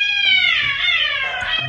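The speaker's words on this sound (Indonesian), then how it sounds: "Dasar, kucing gak ada akhlak." A cat meows loudly and close by in a long, drawn-out cry that bends in pitch, followed by a shorter second call, with no talking.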